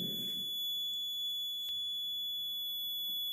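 A steady buzzer tone in a Maxwell inductance-capacitance bridge circuit, holding faint and continuous throughout, with no talk.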